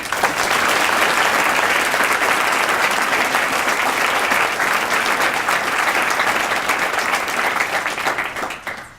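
An audience at a teacher of the year celebration dinner breaks into loud, sustained applause, a dense wash of many hands clapping steadily for about nine seconds before beginning to taper off.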